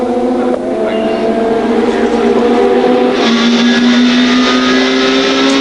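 A WTCC touring race car at the Magny-Cours circuit in 2005 drives toward the slow Adelaide hairpin, its loud engine note droning and shifting pitch under French race commentary.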